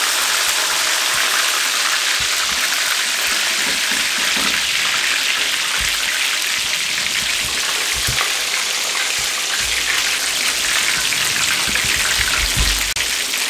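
Fish pieces deep-frying in hot oil, Lahori style, make a loud, continuous, dense sizzle with fine crackles and pops throughout and no pause.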